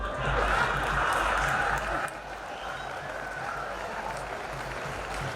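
Steady audience applause at a Hindi comedy poetry show (hasya kavi sammelan), a dense wash of many hands clapping that dips in loudness midway and carries on at a slightly lower level.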